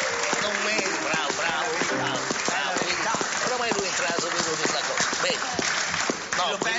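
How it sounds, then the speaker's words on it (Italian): Theatre audience applauding the maestro on an Italian TV show: dense, steady clapping runs throughout, partly under someone talking loudly over it. "un applauso grosso va fatto al maestro del teatro"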